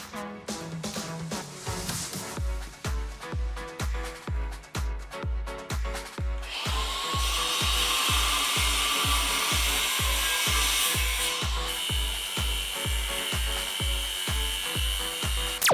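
Steady rhythmic thumps repeat, then a power drill starts whirring continuously beneath the beat, close and fairly loud.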